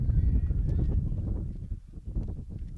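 Wind buffeting a commentator's microphone at an outdoor college baseball game, a rumbling low roar that swells and dips over a few seconds.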